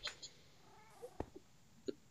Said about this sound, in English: Oh, there's a cat here.